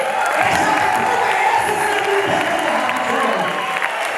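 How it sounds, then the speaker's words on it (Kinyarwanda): A church congregation at an Anglican service applauding, a dense continuous clapping with some cheering and voices mixed in, loud and sustained throughout. "Abamwemera batajyanye bamubwira amashyi,"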